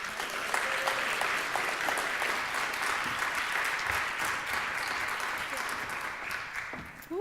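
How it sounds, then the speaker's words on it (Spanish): Sustained audience applause at a talk in Punta Arenas, a steady wash of many hands clapping at moderate distance, with faint voices beneath. "les pido un fuerte aplauso para ella"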